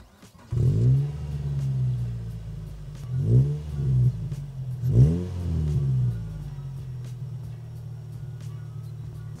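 A Morgan Plus 4's four-cylinder engine idles with a low rumble, then revs up three times in quick rising blips before settling back to a steady idle.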